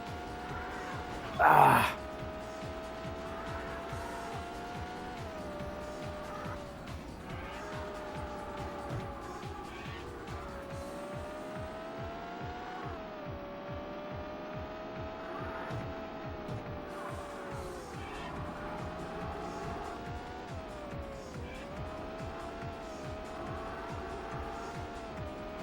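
Car braking into a curve in the Sega Saturn game Road & Track Presents The Need for Speed: a steady droning engine tone with shifting pitch runs throughout, with a short loud vocal outburst near the start.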